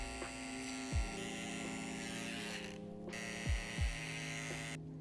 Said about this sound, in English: I'll just use a clipper over comb